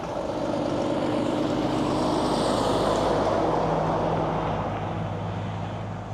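A Scania 16.4 litre V8 truck engine of 770 horsepower gives a steady, unbroken drone mixed with road rumble, heard from inside the cab at an even level throughout.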